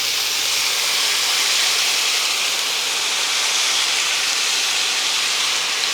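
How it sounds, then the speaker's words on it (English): A loud, steady high hiss of a sauce sizzling in a hot pan during a vegan Thai-style tofu basil stir fry, constant throughout with no talking. "Can you hear that sizzle?"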